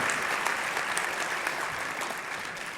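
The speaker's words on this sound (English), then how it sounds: "please give a round of applause for the graduates from the Computer and Network Support Technician program" Sustained applause from a large convocation audience honouring college graduates, a dense steady clatter of many hands filling the hall at even loudness throughout.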